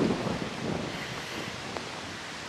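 Strong wind gusting across an outdoor riding arena during a horse lesson, a broad steady rush of noise buffeting the microphone, loudest at the start and then holding level, with no one talking.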